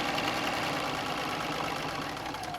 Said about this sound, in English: So now I can come in and I can sew up one side of my petal